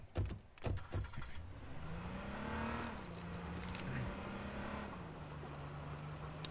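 A car engine in a video game drones steadily, its pitch climbing and dipping as it revs and shifts, after a few sharp thumps at the start. No one talks.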